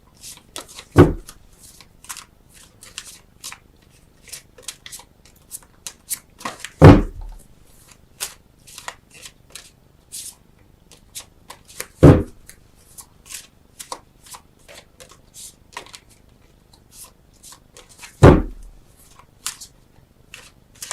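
Tarot cards being shuffled by hand during a reading: four sharp riffling bursts spaced several seconds apart, with soft card handling and shuffling in between, close and clear with no talk.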